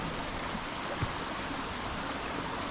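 Water from a stream spilling down a waterfall below Interstate 81 at Swatara State Park, a steady broadband rush that holds even and continuous throughout, with no voices.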